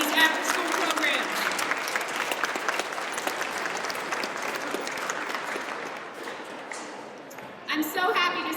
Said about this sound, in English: Let's give a round of applause for all the people in your life with these after-school programs